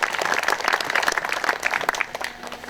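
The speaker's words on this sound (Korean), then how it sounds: "박수 부탁드리겠습니다." Crowd at a May 18 memorial ceremony applauds as dignitaries are introduced, a brief burst of dense clapping that starts strong and gradually thins out toward the end.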